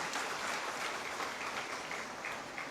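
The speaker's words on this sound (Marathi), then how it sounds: "जोरदार टाळ्या" Applause from a crowd at a Marathi public gathering, a continuous even wash of many hands clapping, heard faintly as if from a distance.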